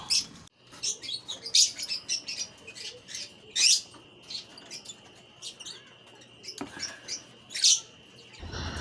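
A pet bird chirps in a run of sharp, high tweets spread across several seconds, with louder bursts near the start, middle and end over a steady faint hum indoors.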